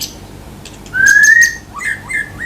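A white-rumped shama (murai batu) sings alone: a clear, sustained rising whistle, then a few short chirped notes, bright and fairly close.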